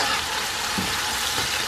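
Tomatoes fry in a pot for Guyanese-style hassa curry, giving a steady close hiss and crackle of sizzling oil with faint stirring knocks, and no voices.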